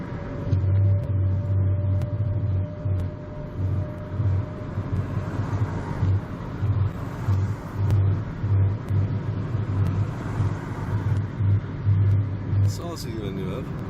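A car overtaking a truck on a road, its engine a continuous low rumble with a steady hum inside the cabin, while a driving instructor talks throughout.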